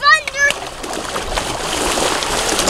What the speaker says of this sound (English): My kids decided to stop playing with trucks and just go for a run through the puddle.